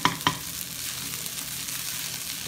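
Rice sizzles and hisses steadily while stir-frying in a hot wok, opening with two sharp metallic scrapes of a utensil against the wok.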